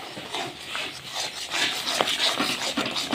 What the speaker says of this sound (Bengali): এই চালের গুঁড়োটা দিয়ে আমাকে এইভাবে ভালো করে নাড়াচাড়া করে একটা কাই বানিয়ে নিতে হবে।